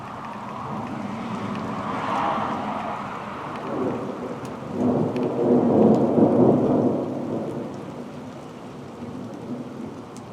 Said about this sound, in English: with all this thunder and lightning, and there's not hardly any rain falling at all right now